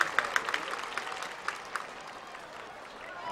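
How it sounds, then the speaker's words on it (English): Applause from a big Sunday night crowd at a baseball stadium, starting with a few sharp claps and then fading to a softer, steady murmur of hands and voices. "Crowd's certainly into it."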